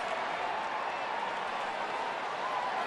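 A sellout baseball crowd roaring and cheering after a home run, a dense, steady wall of noise from a large stadium audience, with faint speech mixed in.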